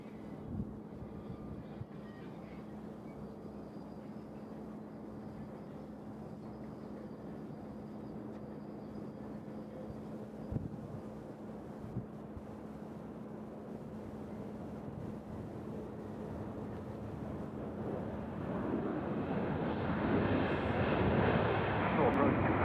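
An airliner arriving at Nashville International Airport rumbles far off at first, its engine roar swelling louder toward the end, while a man and radio chatter talk over the low steady hum.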